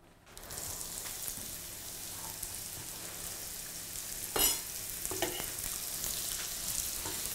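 Steady sizzling and crackling of onions frying in olive oil in a pan, continuous and close, with a brief clatter partway through.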